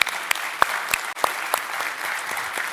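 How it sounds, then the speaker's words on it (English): An audience applauds at the close of a tech conference keynote, steady crowd clapping with a few distinct nearer claps standing out, sustained evenly throughout with no speech. "So let's give up a round of applause."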